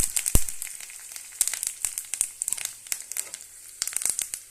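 Curry leaves and asafoetida fry in hot tempering oil for a bottle gourd kootu, giving close, irregular sharp crackles and pops over a faint sizzle, with no talking.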